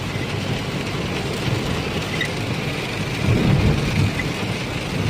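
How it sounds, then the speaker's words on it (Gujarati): Heavy rain on the Pipli–Dholera highway near Bagodara, heard from inside a car as a steady roar of drumming rain and road noise with low rumbles. "વરસાદ પૂર જોશમાં ચાલુ જ છે"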